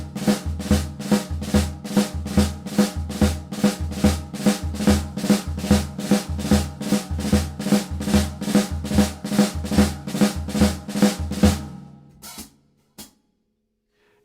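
Drum practice pattern: a single drag rudiment on the snare played over a bossa nova bass drum and hi-hat groove, steady repeating bars for about twelve seconds, then it stops, leaving silence and a stray hit.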